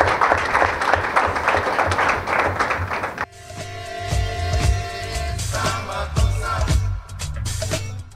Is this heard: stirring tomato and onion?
no